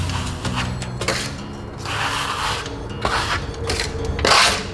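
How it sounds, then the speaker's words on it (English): A trowel scrapes and smooths plaster for a stone finish on a wall, with repeated rasping strokes of varying length, close and fairly loud, with no voices. "come back over and remove any excess plaster. There should be no ridges or trowel marks after this first pass"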